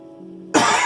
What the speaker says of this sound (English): Sorry, had to cough there a second.